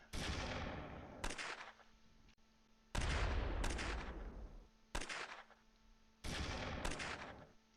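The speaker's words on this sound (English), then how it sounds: "we're returning fire with rifles" Rifle gunfire in the World War II strategy game Close Combat III: loud, sharp shots in irregular pairs and singles, each crack trailing off into a long decaying echo, with no talk.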